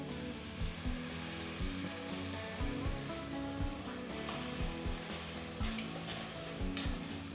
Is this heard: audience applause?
no